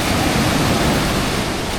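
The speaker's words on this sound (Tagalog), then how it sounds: "Ayan oh, kita nyo naman po yung alon, pagkalalaki talaga." Large ocean waves churn around a small boat at sea, a loud, dense roar of surf and wind that fills the short stretch without a break.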